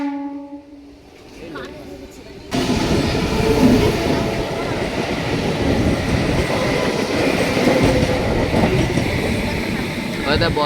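A passing train runs on the rails alongside a halted express carriage, its loud rumbling clatter starting abruptly after a quiet moment and rolling on steadily, with people talking faintly underneath.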